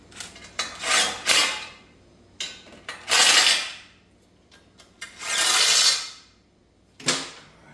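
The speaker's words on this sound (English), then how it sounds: "Tighten it up on the primary." A 9/16 socket ratchets a bolt tight on a chopper motorcycle's primary, giving bursts of metallic clicking and rasping in uneven spurts with short pauses, close and fairly loud.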